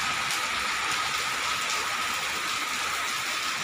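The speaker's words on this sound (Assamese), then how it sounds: "বৰষুণ দেখিছেনে" Steady rain pours outdoors by a garden greenhouse and a flowering shefali tree, a dense, even hiss that holds unbroken from start to end with no voices.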